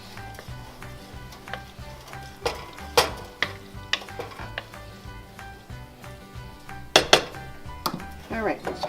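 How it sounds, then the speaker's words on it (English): Spaghetti noodles being stirred and tossed with bison meat sauce in a pot, giving irregular clinks and scrapes of a utensil against cookware, close up and moderately loud, with a sharper cluster of clatters near the end. "we're going to mix it up in the noodles"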